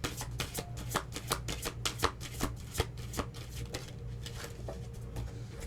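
Life Purpose Oracle cards by Doreen Virtue being shuffled by hand, a fast run of crisp riffling snaps and flutters repeating in quick bursts, close and fairly quiet with no voices.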